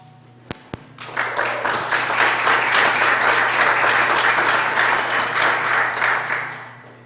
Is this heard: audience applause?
yes